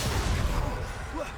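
Fiery Incendio spell effect in the Hogwarts Legacy game: a dense roaring burst with low booms and whooshing, loud and continuous for the whole moment, with a voice faintly mixed in.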